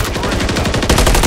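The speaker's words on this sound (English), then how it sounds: "you're just standing and shooting" Dense, continuous automatic gunfire from a video game shooter, loud and close, hammering at a steady fast rhythm without a break.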